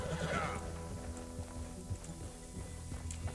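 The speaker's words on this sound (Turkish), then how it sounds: "Bu atın nesi var böyle arkadaşlar? Bir sağa bir sola." A horse in Red Dead Redemption 2 neighs loudly at the start, then its hooves clop irregularly as it moves about.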